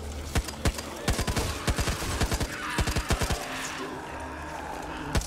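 Rapid bursts of gunfire in the zombie shooter Back 4 Blood, a string of close, sharp shots in quick uneven clusters with short pauses, over a low ambient hum.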